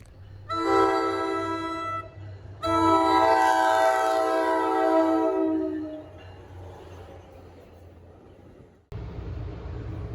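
A NJ Transit Raritan Valley Line commuter train at a station: its horn blasts loudly twice, the second long and sustained, over the train's rumble, followed by a quieter rushing roar of rail noise.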